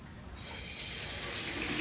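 Water runs from a tap in a steady rushing hiss that swells gradually louder over the short stretch, close and continuous with no voices.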